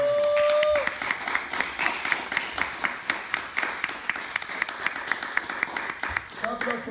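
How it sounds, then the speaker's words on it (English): An audience gives a round of live applause at a poetry and art showcase, steady scattered clapping following a brief voice at the start and carrying on for several seconds before fading. "Clap it up for Mr. Cooper"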